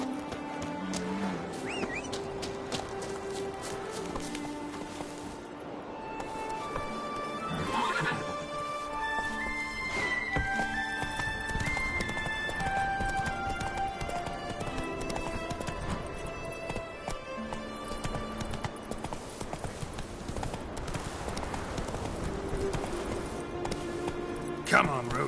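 Horse neighing and hooves clip-clopping in The Witcher 3 game, mixed with game music and occasional spoken voices, steady and fairly loud throughout.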